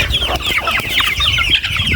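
Young pet chickens cluck busily at feeding time, a close flock of overlapping short clucks and chirps without pause.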